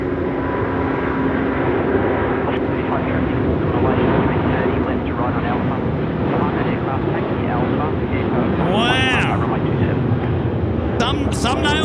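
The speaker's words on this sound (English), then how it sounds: "Here we go, Air China rolling out runway" An Air China airliner rolls out for takeoff on runway 16 at Melbourne at night, a loud, continuous jet engine roar that builds and fills the whole clip, with a person talking over it.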